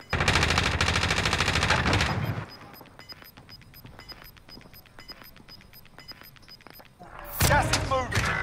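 Rapid automatic gunfire rattles loud and sustained for about two seconds in Call of Duty: Modern Warfare, then distant scattered shots and game effects follow before another loud burst at the end.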